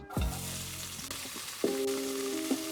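Steady sizzling of meat and onions frying in a pan, with a few clanks and scrapes of a utensil against the cookware, close up and continuous.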